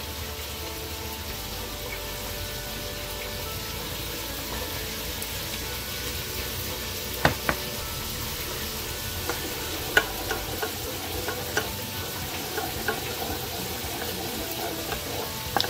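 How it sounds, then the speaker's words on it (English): Barbecue honey sauce simmers in a pan with a soft steady bubbling hiss, while a spoon stirs and now and then clicks sharply against the pan's side; no talking. "So keep stirring it. And give it a minute to simmer"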